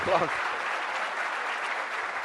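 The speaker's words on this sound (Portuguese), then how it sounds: "Aplaudir." Applause from an audience at an agribusiness event's lecture, a steady wash of clapping that holds evenly for about two seconds after a brief voice at the start.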